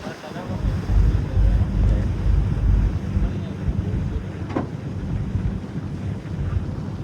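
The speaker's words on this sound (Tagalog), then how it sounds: "Lakas na yung hangin." Strong wind rushing and buffeting across the microphone on open sea aboard a passenger boat from Oslob, Cebu to Siquijor, with low rumbling from the boat and waves underneath.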